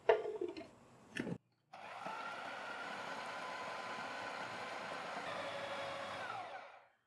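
An electric grinder runs on a mixture of chicken, fried onion and egg, with a short whir and a pause, then a steady, even motor hum for about five seconds before it winds down and stops.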